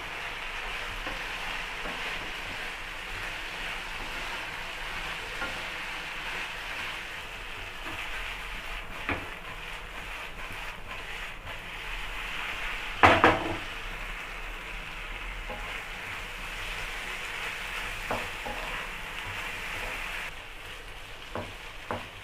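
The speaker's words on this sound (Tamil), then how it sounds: "சிக்கனை சேர்த்துப்போம் சேர்த்துட்டு நல்லா கிளறி விடுங்க" Chicken pieces for dragon chicken frying in a pan while being stirred, a long, soft, steady sizzle with a brief louder clatter of the utensil partway through and a few small knocks near the end.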